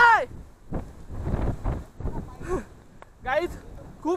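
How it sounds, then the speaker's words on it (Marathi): Strong wind on the Bhairavgad mountain trek near Malshej ghat buffets the microphone with low, gusty rumbling, running beneath people talking loudly throughout. "आम्हाला इतकं वार येतं की आम्हाला ब्लॉग पण करता येईल नाही"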